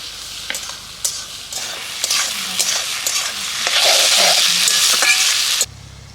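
Onions and tomatoes with whole garam masala and cumin seeds sizzle in a pan at an outdoor village picnic, with scraping stirs throughout and the frying growing louder and denser toward the end.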